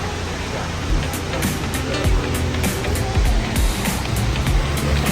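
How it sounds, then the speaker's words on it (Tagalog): Wulai waterfall in Taiwan, a steady broadband roar of falling water that stays even and fairly loud throughout, with faint sounds of people nearby. "Ayun na yung waterfall."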